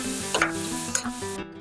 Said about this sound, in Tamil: வந்த உடனே நம்ம கட் பண்ணி வச்சிருக்க தக்காளியும் இதில் சேர்த்து வதக்கிக்கலாம்.